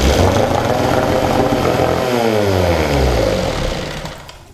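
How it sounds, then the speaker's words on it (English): A small low-horsepower outboard motor cranking over on a cold start during a compression test with 60 psi, a loud continuous rapid churning drone up close that fades slightly at the end. "it cranks fairly easy with 60 psi cylinder"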